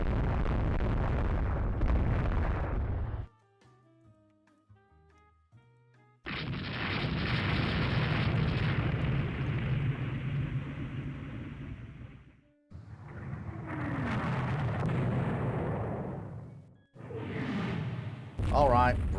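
Naval gunfire and shell explosions from the warship game Rule the Waves 3, with loud booming blasts and whooshing bursts filling most of the stretch, broken by a short quieter gap and a few tonal effects, with talk over parts.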